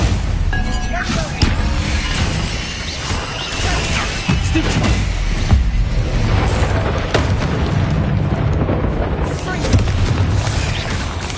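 A fiery spell blast from the Hogwarts Legacy video game erupts as a loud booming burst with crackling, roaring flame noise that lingers across several seconds.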